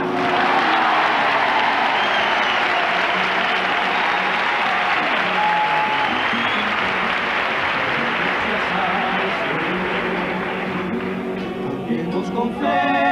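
A large audience claps heartily and continuously at a performance by a carnival troupe, a thick wash of applause that holds steady before thinning out near the end as a voice briefly emerges.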